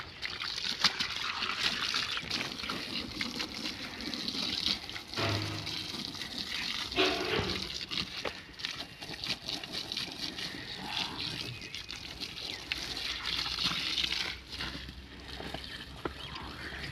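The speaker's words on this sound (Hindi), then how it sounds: "ये हमारा पानी चल गया।" Water runs from a newly laid 6-inch sewerage pipe at a flour mill construction site, a steady close trickling and sloshing flow with occasional splashes and no talk.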